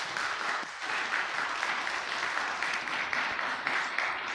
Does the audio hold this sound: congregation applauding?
yes